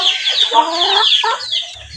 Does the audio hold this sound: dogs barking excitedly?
no